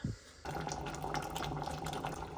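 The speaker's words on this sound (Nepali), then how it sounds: "तातो पानी हाल्नुपर्छ" Hot water poured into a cooking pot in a home kitchen, a steady close gurgling pour that starts abruptly after a brief knock and continues evenly throughout.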